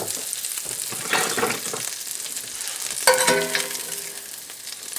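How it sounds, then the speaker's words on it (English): Strips of homestead bacon frying in a pan give a steady, close hiss and crackle with scraping and stirring clatter, a louder utensil knock near the middle, and no talking. "Let's get our bacon out of the pan."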